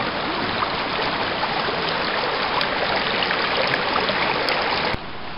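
Water from a bucket running through a gold prospecting sluice beside the Little North Fork Santiam River, a steady close rushing trickle that continues unbroken and drops slightly in level near the end.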